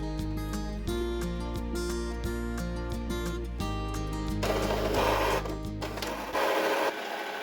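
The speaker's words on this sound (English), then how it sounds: "The printer will start drawing up the ink" An Epson EcoTank inkjet printer drawing up ink hums and whirs with steady mechanical tones, shifting pitch and pulsing as its motors run, growing harsher and noisier toward the end.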